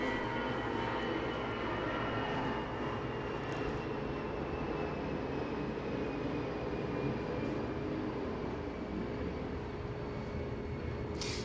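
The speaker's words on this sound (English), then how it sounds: "another airplane" An airplane drones steadily overhead, a broad continuous roar with a slowly shifting engine whine, fairly loud and alone without speech.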